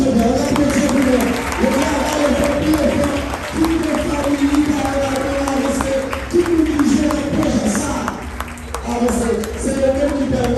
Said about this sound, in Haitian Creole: on va applaudir pour nous